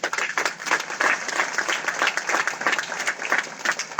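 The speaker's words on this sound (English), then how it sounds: "Please give a big round of applause for sir." Audience applause at an HR and ESG symposium panel, steady dense clapping from a hall crowd lasting throughout, fairly loud and without speech.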